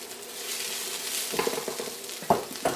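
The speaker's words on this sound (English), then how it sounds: "Now I'm going to throw in the cabbage" Cabbage and mushrooms tossed into a frying pan after garlic and onion for vegan kimchi cauliflower fried rice; a soft hiss grows into crackling sizzle, with sharp clatters of tossing near the end.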